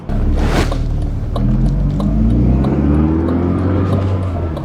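A car engine revs after a fresh cam belt and oil change, a steady loud drone rising and falling through several revs, close and continuous with no talk.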